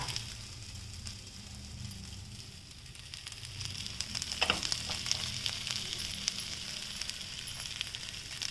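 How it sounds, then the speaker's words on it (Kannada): Puffed rice and field bean cutlets fry in a little oil on a pan, a steady close sizzle and fine crackle with occasional louder pops, with no talking. "ಇದಕ್ಕೊಂಚೂರು ಎರಡು ಸೈಡು ನೀವು ನೀಟಾಗಿ ಒಂಚೂರು ಚೂರು ಎಣ್ಣೆ ಹಾಕಿಬಿಟ್ಟು ನೀವು ಸುಟ್ಟರೆ ತುಂಬ ಚೆನ್ನಾಗಿರುತ್ತೆ"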